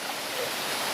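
A waterfall near a hillside land plot at the Payung Langit paragliding area, a constant hissing rush of falling water heard faintly and evenly, with no voices.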